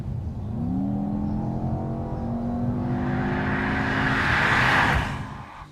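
A Mercedes-AMG E63 S accelerates hard on an expressway, its engine note rising steadily in pitch and loudness over several seconds with building wind and road roar before easing off at the end.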